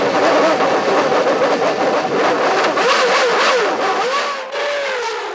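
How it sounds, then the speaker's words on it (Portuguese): A misfiring Renault engine in a Williams Formula 1 car roars close by, its note wavering and stuttering unevenly as it passes, loud throughout with no talk. "Dá até para ouvir o motor Renault da Williams rateando."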